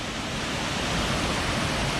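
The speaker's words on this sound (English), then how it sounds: "We can see the Archimedes screw turning, generating power from the water here." Archimedes screw hydro turbine turning in a river at New Mills in the Peak District, generating about 16 kilowatts; a steady, loud rush of churning water fills the whole stretch with no voices.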